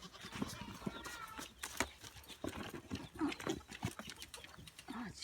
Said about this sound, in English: Oh, pig fight.